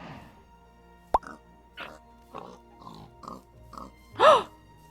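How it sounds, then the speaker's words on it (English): Minecraft pig noises: a sharp plop followed by a series of short grunts and oinks at an even pace, ending in a louder squeal, clear against a quiet background. "I'm pretty sure the pig was dying"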